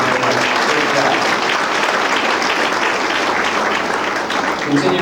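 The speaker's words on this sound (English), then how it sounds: "let's please give them a good round of applause" A banquet audience gives volunteers steady applause at the JC Jays 1999-2000 basketball banquet. The dense, continuous clapping fills the room at an even level for several seconds.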